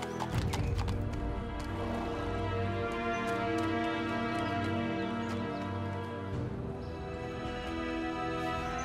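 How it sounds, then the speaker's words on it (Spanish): A horse clip-clops steadily and gives a neigh, with a steady layer of background music underneath throughout and no talk. "Quiero subir contigo al caballo."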